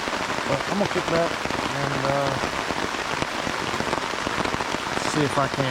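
Steady rain patters on a Pathfinder tarp shelter at a solo night camp, a dense constant hiss that fills the whole clip while someone talks quietly over it.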